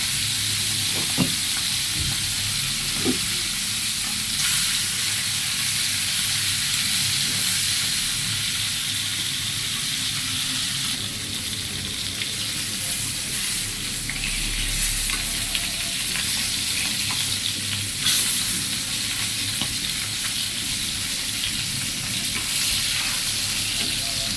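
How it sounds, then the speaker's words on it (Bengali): Hilsa fish fries in a pan with a constant loud sizzle and hiss, broken by occasional small pops and stirring clinks over a long, unbroken stretch. "মাছটা ভাজা হয়ে গেছে, এখন তুলে নিলাম।"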